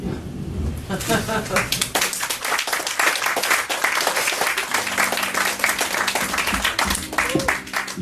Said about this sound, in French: Applaudissez-le en bonne façon, mesdames et messieurs.